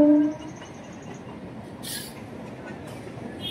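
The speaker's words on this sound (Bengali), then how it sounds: "আয় দেখো ট্রেন যাচ্ছে এইখান থেকে" A train passes by near a rooftop garden, heard as a steady low rumble with a brief hiss partway through and a faint horn-like tone at the start, fairly distant.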